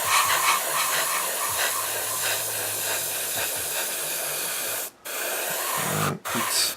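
Airbrush spraying a coat of Hataka Red Line paint, a steady close hiss that runs continuously with two brief cutoffs near the end.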